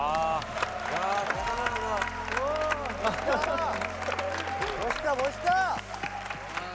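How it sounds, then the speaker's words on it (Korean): A studio audience claps and cheers for solo contestants on a TV competition show, with steady applause under excited talking voices. "큰 박수 부탁드릴게요."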